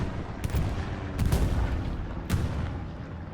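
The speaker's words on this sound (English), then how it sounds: "Good shooting, Tim." Distant gunfire in the World War II video game Hell Let Loose: a few sharp reports over a constant rumbling battlefield wash, fairly faint, with no voices.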